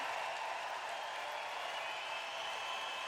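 Crowd applause at a men's world curling championship match between Switzerland and Canada, a steady, even wash of clapping in a large arena, sustained and moderately distant with no breaks.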